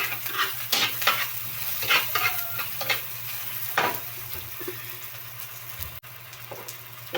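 Onions go into a hot oiled pan and sizzle softly, with frequent scraping and clinking stirring strokes over a low steady hum, fairly quiet and without talk.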